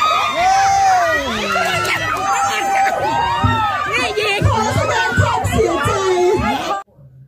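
A lively outdoor crowd of adults and children cheers and shouts through a musical chairs game at a Songkran festival at a Thai temple in Austria, with excited chatter and whoops throughout before an abrupt cut.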